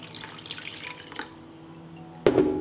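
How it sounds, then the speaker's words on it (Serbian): Water poured into a pot over chicken and vegetables, a few faint drips and trickles, then a sudden louder gush of liquid near the end, close by with no talk. "Nalit ću sa vodom da prekrije sastojke."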